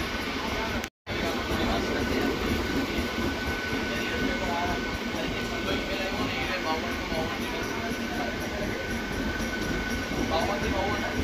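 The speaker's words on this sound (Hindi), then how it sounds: "तो अभी लोकल ट्रेन में बैठे हैं।" Steady rumble and rattle of a Mumbai local commuter train in motion, continuous and fairly loud, with a brief dropout near the start and faint voices underneath.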